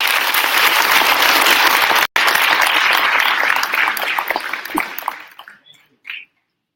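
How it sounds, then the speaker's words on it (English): Attendees at the SM Investments Corp 2018 annual stockholders meeting give a warm round of applause for newly elected directors, a sustained, full crowd clapping that gradually thins out and fades to silence. "Let us welcome the elected directors with the warm round of applause."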